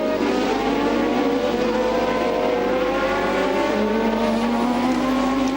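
Marlboro McLaren Honda Formula 1 cars racing at the Hungaroring in 1988, their high engine whine steady and loud, with pitch rising and sliding as they accelerate and pass amid continuous track noise.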